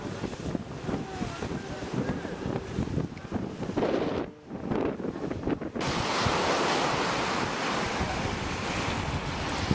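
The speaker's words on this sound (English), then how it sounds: "Very windy and very wavy compared to the calm scenes you saw earlier." Wind-driven sea waves crash and roar near a cave on a Hawaiian coast under steady wind buffeting on the microphone. A brief lull gives way to a louder, sustained surge of surf.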